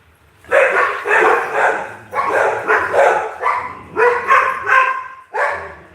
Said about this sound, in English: I gotta let this dog out real quick.